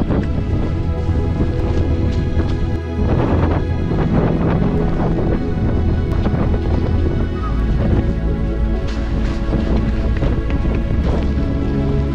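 Wind buffets the microphone on an autumn morning run outdoors, a loud, continuous rough rush with uneven gusts and faint footfall-like thumps underneath.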